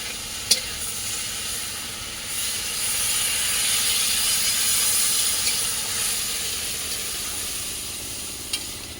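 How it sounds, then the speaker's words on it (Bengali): Water poured into a sizzling, well-fried curry in a village kitchen pan sends up a loud, steady hiss of steam and sizzle that swells and then settles, with a few sharp clinks of utensils and no voices. "এবার আমি তরকারিতে জলটা ঢেলে দেবো"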